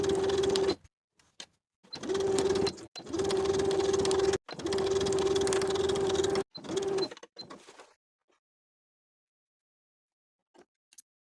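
Domestic sewing machine stitching a dart on a cardigan, running in several steady whirring bursts with short pauses between, close and clear, then stopping into near silence with a few faint handling clicks.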